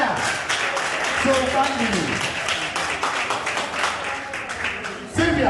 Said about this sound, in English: another big round of applause, please, for Mahania